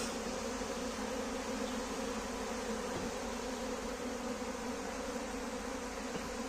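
A swarm of honey bees buzzes in a continuous dense drone during a swarm capture, the hum close and steady throughout with no voices.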